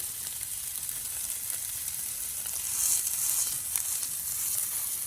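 Meat patties for a carnivore breakfast sandwich fry in a hot pan, giving a steady, close, crackling sizzle that swells slightly midway and continues without any talking.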